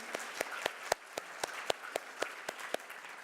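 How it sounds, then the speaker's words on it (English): A small conference audience claps at a trust conference, a sparse, rhythmic run of individual claps standing out over a quiet room murmur, fairly close. "Please give them a round of applause."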